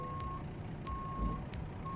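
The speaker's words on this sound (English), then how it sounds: "It's a truck." Engine of a Volvo truck in a driving simulator game, a steady low diesel drone with a repeating electronic beep tone cutting in at regular intervals over it.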